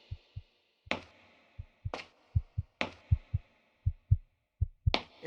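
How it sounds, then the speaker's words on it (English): A video game character's heartbeat in Unity's Courtyard demo with Wwise audio beats as soft, deep, regular double thumps, punctuated by several sharp, bright clacks at intervals. "As we approach the crate, the character's heartbeat gets louder and louder, suggesting the crate is important."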